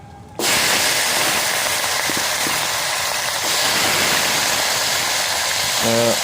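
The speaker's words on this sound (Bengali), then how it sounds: "এখন দিয়ে দিব পেঁয়াজ, দিয়ে দিব গোটা মানে রসুন" Chopped onion and whole garlic cloves hit hot oil with dried chillies and bay leaves, setting off a sudden loud, steady, close sizzle that fills the clip, with faint clatters and a brief voice near the end.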